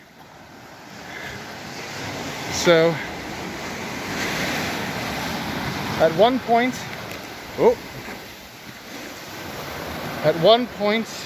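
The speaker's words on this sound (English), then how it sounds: "look how close the waves are getting" Sea waves break and wash onto a shore in a steady, close roar with wind buffeting the microphone, while a person speaks briefly over it.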